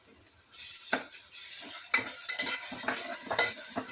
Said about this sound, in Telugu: అల్లం వెల్లి పేస్ట్ 1 స్పూన్ వేసిన అండి.